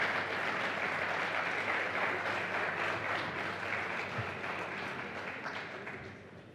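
Audience applause at a world cities and ports conference, dense steady clapping from a sizeable hall that gradually fades over several seconds.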